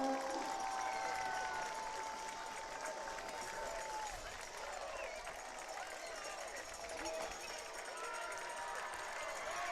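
Student crowd from Gray Collegiate Academy cheering at a school game at The Hammond School, a steady wash of distant voices and shouts filling the gym, with an announcer's voice talking over it.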